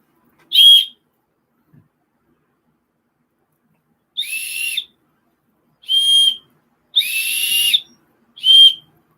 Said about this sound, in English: Appears to be two whistles. One's cut different than the other.